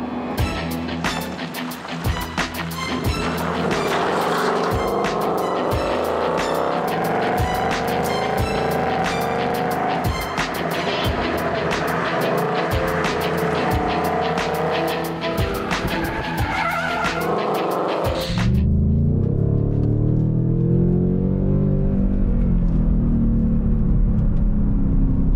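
Ford Mustang Mach 1 with a V8 driven hard on a track, engine roaring with rapid gear changes and squealing tires as the rear slides, then abruptly giving way to a deep, louder steady drone near the end.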